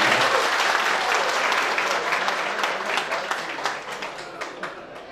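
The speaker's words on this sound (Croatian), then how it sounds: "Može aplauz jedan za godišnjicu." Wedding guests applaud the couple's anniversary with a dense burst of clapping that starts loud and gradually thins out into scattered claps, with a few voices mixed in.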